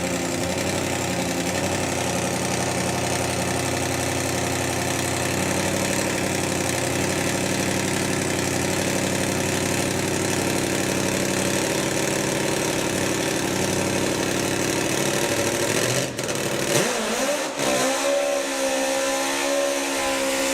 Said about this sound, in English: with the rocket, the 3-cylinder, supercharged 3-cylinder machine